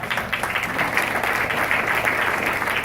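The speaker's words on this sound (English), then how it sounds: "I want to give our governor a big round of applause" A crowd applauds loudly and steadily, dense clapping filling the room without a break.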